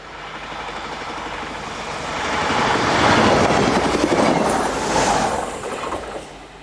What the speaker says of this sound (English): A Z23 unit hurries past on its way to Aulnoy.